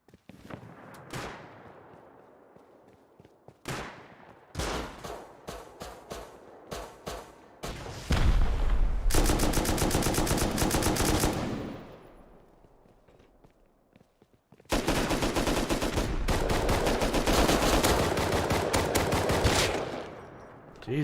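Pistol and other gunfire in a multiplayer shooter video game: clusters of sharp repeated shots with footsteps between them, and two long loud bursts of sustained rapid fire.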